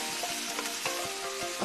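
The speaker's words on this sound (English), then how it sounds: "You can hear it sizzling away." Carrots sizzle steadily and closely in a hot pan, a continuous hiss with small pops and faint stirring scrapes, no voices.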